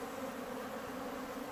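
Many honey bees circle and pass in and out of a busy hive entrance in Newfoundland in August, their wings making a continuous near hum that neither rises nor fades over the short span.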